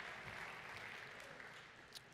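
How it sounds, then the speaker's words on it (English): An audience gives a round of applause, a faint, steady wash of clapping throughout the short stretch. "Give them a round of applause."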